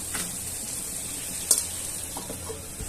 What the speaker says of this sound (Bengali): মাছটা হালকা একটু নাড়া দিচ্ছি, নাড়া দিয়ে হালকা একটু দমে রাখবো